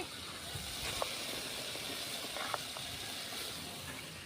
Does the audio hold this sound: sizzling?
yes